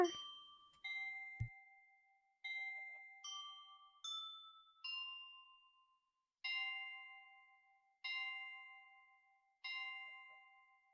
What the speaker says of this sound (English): Should be able to hear the bells.